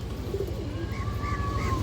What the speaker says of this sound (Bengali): এই দেখেন কাজলা পট্টির একটা কবুতর মাশাআল্লাহ